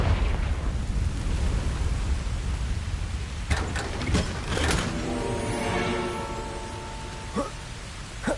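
Blasting spell explosion in Hogwarts Legacy, with a few sharp cracks and bursts rising out of a dense, rumbling wash of noise, then a fading rumble and one more small pop near the end.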